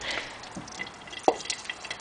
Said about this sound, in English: Sounds like a deep fryer.